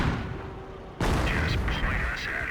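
A Hummel artillery barrage in Company of Heroes lands with one sudden loud blast, followed by continuous rumbling explosions and crackling fire amid battlefield noise.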